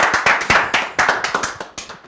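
An audience claps in a quick, uneven rhythm of sharp hand claps at a Kikuyu-language show, the claps rising and falling close by with no talking over them.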